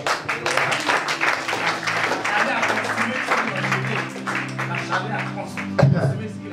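A church congregation applauding during a Bible teaching on Exodus, a sustained patter of many hands clapping together while a voice carries on over the noise.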